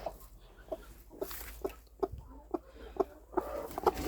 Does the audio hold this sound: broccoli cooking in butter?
no